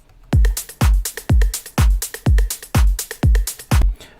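A loud electronic drop drum beat made in FL Studio, with a heavy booming kick on every beat and crisp hi-hats between, a steady four-on-the-floor pattern played alone.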